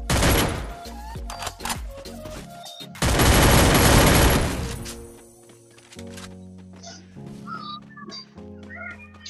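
Loud rapid bursts of gunfire in two long volleys, followed by quieter electronic game tones and chirpy sounds.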